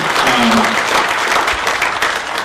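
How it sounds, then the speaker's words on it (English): Steady crowd applause, dense and continuous clapping filling the room throughout, loud and close. "let's give a round of applause to all the realtors that are here"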